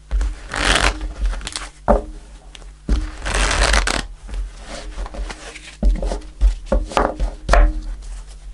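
Tarot cards shuffled and handled during a reading, giving bursts of riffling and soft card slaps with short pauses between, close and moderately loud, with no talk.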